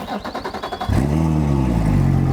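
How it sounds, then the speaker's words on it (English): Boat outboard motor running while drawing descaling fluid into its cooling system, first a rapid pulsing idle, then a steady loud drone with a low hum after about one second, with no talking. "So right now it's sucking all that liquid, all that fluid, the descaler, into the motor right now."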